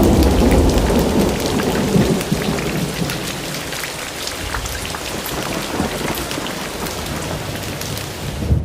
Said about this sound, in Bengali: বাইরে ভীষণ বৃষ্টি।